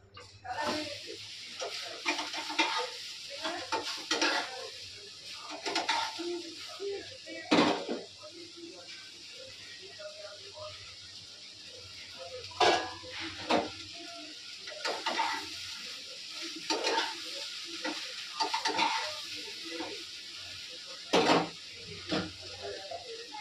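Eggs frying and a curry being stirred in a pan in a home kitchen: a soft, steady sizzle underneath repeated close scrapes and clinks of a utensil against the pan in an irregular rhythm.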